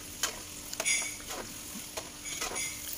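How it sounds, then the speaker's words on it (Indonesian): Peanuts with their skins on fry in hot oil, a soft continuous sizzle broken by scattered crackles and occasional stirring scrapes, close and moderately quiet. "Ini kita goreng sampai dia berwarna kecoklatan ya, goreng bersama dengan kulitnya."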